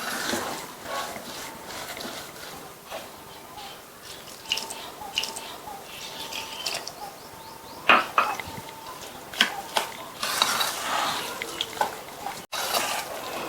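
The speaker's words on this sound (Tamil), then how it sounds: "எடுத்து வச்ச மோரை இந்த அவல் ரவை கலவையில கொஞ்சம் கொஞ்சமா சேர்த்து நல்லா கலந்துக்கலாம்." Flattened rice and semolina mixed with buttermilk in a bowl, soft wet squishing and stirring with intermittent clinks of a spoon against the bowl, close and fairly quiet.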